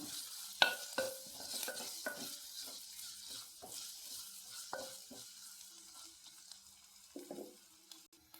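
Green chilies sauté in a pan for vegetable biryani, with a faint steady sizzle, spoon stirring and scraping, and a few sharper clinks near the start and middle.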